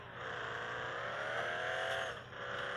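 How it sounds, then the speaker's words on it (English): An overly fast truck in a video game drives with a steady, loud whining engine drone that rises slightly in pitch, then dips briefly near the end. "This truck is way too fast."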